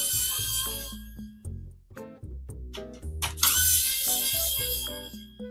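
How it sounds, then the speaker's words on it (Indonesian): A ratcheting screwdriver clicks in quick rhythmic bursts while a PC with an Intel Ultra 7 265K and RTX 5070 is being assembled, close and clear with no talking. "Gue seneng deh sama suara obeng yang ini."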